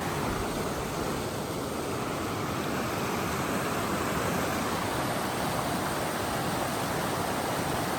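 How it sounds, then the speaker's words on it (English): Newton Creek flows in the Mount Hood Wilderness as a steady, even rush of water, heard from above the shoreline, constant and moderately quiet, with no voices. "We're here at Newton Creek here in Mount Hood Wilderness, and I'm here above the shoreline. Let's take a look as it meanders all the way down."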